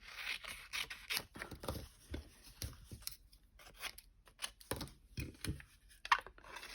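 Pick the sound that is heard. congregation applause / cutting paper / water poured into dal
cutting paper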